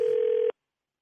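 A telephone dial tone sounds as a call is placed, a steady electronic hum that cuts off abruptly after half a second, leaving silence.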